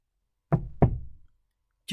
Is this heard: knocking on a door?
yes